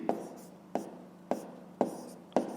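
A pen writing a math answer on paper, five quick scratchy strokes at an even pace, each a short close rasp followed by a brief pause, quiet and without talk.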